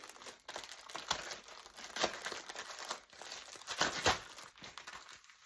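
Foil balloon packaging crinkles and crackles up close in irregular bursts, with no voices.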